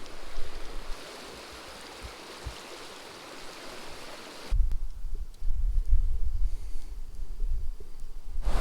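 Cold spring water pouring into a river, a steady broadband rush that shifts to a deeper, closer gurgle and splash partway through, with no voices.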